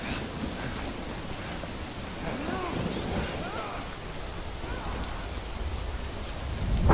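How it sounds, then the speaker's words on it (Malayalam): Steady, dense rain falls in the video game Death Stranding, an even hiss that fills the whole stretch, with a faint voice briefly murmuring under it. "it was raining."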